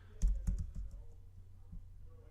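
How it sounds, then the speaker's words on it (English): Fast taps on an iPad on-screen keyboard while searching for a word, a quick run of light, close clicks in the first second that trails off into quieter, scattered taps. "you can see typing peanut as fast as I can"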